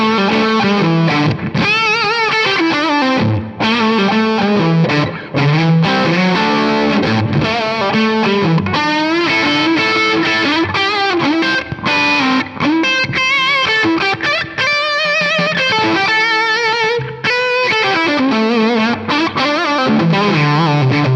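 An electric guitar played through an Axe-Fx III Marshall amp model with heavy plate reverb rings out as loud, distorted riffs and sustained chords, continuous and dense with lush reverb tails, no voices.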